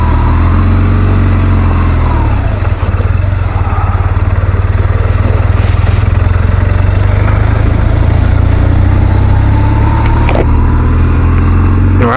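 A vehicle engine pulls away in first gear, its loud, close drone holding steady for several seconds with a brief shift in pitch partway through; no one speaks.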